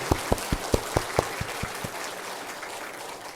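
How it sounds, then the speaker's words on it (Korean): A church congregation claps in praise at the start of a Korean Sunday sermon, a sparse run of about nine distinct, fairly close claps that thin out over the first two seconds, leaving a quiet hall. "우리 하나님께 영광의 박수 올려드리면서 말씀 시작합니다."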